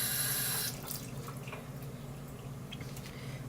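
Water running from a kitchen tap into a sink as a head of cauliflower is rinsed, a steady hiss that is stronger at first, then softer splashing and trickling.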